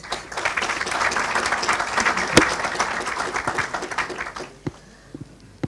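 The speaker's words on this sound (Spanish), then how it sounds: "un fuerte y caluroso aplauso" An audience at a COP25 talk in Chile breaks into loud, dense applause that holds steady for several seconds, then thins into a few isolated claps before dying away.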